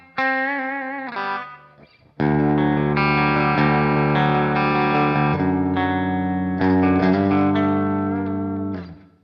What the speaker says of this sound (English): Now we've got a pretty great sparkling clean with a little bit of reverb.